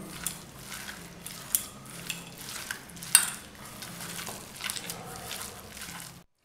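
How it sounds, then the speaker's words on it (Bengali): Chicken is mixed by hand with coriander powder, garam masala, cumin powder and chilli powder, giving soft, wet squelching and rubbing with a few sharper clicks against the bowl, close and fairly quiet, with no talking. "আমি এখন ভালো করে হাত দিয়ে মেখে নেব।"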